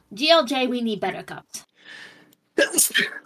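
A single short sneeze bursts out between stretches of casual conversation, close and fairly loud, with people talking just before and after it.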